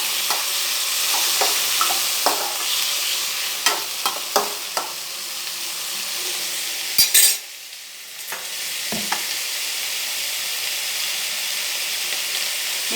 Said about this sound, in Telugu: క్యాప్సికమ్, టమాటాలు అన్నీ ఒకసారి మళ్ళీ ఇవన్నీ కలిసేలా ఫ్రై చేసేయండి